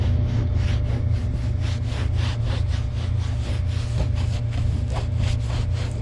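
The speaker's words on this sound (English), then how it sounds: "got me a little scraper. Just come up with the scraper like that" A small hand scraper pushes softened coating off a truck surface in a rapid series of short, rasping strokes, steady and close, over a constant low engine-like hum.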